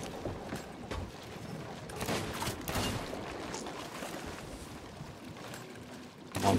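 Ship cannons firing in a pirate video game during a player-versus-player sea battle: a few scattered booming shots with rumbling water and creaking over a constant noisy backdrop, one louder blast near the end.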